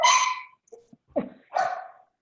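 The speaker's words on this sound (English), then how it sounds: "we have dogs barking." Dogs barking indoors during a talk-show recording, a sharp bark to open, some short yips and whimpers, then another bark, close and loud with no talk.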